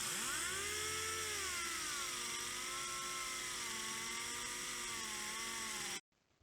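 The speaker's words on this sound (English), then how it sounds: "it's the 6-inch random orbital air-powered sander, and I always use 60 grit while doing it" A 6-inch random orbital air-powered sander with 60 grit paper cuts back an inlay on a large walnut bowl, a steady high whine with wavering pitch running continuously and close, then cutting off abruptly near the end.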